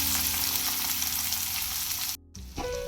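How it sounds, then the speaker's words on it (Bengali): Chopped onion fries in oil with whole garam masala spices, a loud, close, continuous sizzle with light stirring, briefly dropping out before resuming. "পেঁয়াজটাকে এবার বেশ কিছুক্ষণ ভেজে নেব"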